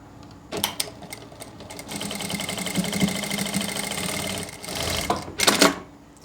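A sewing machine stitches lace onto a sleeve in a steady, rapid mechanical chatter lasting several seconds. It is heard close up, with brief clicks and handling noises at the start and end.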